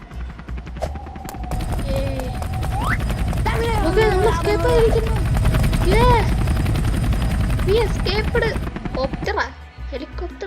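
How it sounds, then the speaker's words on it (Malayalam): A video-game helicopter in a prison escape buzzes with a loud, steady rotor drone, joined by bursts of rapid gunfire, while a voice talks excitedly over it. "ഹെലികോപ്റ്റർ അല്ലേ ഇപ്പൊ പൊട്ടി തെറിയായിരിക്കും"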